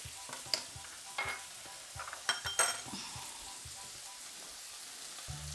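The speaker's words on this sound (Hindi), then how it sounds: "अब हम इनको अच्छे से टमाटर सॉफ्ट होने तक भूनेंगे।" Tomatoes frying in a pan for masala idli fry, a soft sizzle under intermittent stirring scrapes and utensil clinks, close by and without speech.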